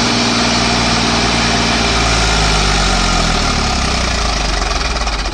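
An Eicher 5150 tractor engine runs hard at full throttle in fourth gear with its tyres failing to turn, a loud, steady, rough diesel drone close by throughout with no talk.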